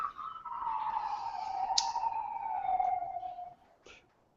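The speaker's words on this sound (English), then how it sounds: "I'm hearing police sirens." Police siren in the Bronx, a single long descending wail heard at a distance and fairly faint, fading out near the end with a couple of small clicks.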